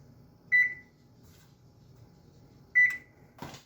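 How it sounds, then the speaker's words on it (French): An oven being set to preheat to 180 degrees gives two short electronic beeps about two seconds apart, clear and close in a quiet kitchen, followed by a brief clunk. "ça dit de préchauffer le four à 180 degrés ou 350 Fahrenheit. Donc c'est ce que je vais faire à l'instant."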